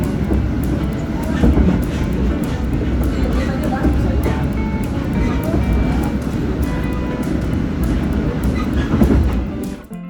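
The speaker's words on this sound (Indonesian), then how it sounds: "kereta api Argo Bromo Anggrek menyusul kereta api Gajah Wong keberangkatan awal Jakarta Pasar Senen tujuan Lempuyangan" The Argo Bromo Anggrek express train rolls past Jatibarang station in Indonesia, giving a loud, continuous low rumble with rhythmic clickety-clack from the wheels over ten seconds.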